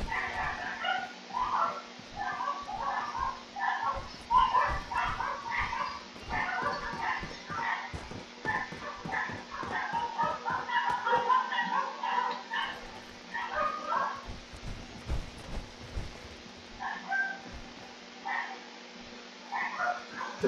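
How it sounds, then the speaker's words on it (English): Several dogs next door bark and yip in repeated quick bursts that carry on steadily throughout, at moderate distance and fairly loud, with occasional brief pauses between volleys. "Sorry guys, that's the dogs next door."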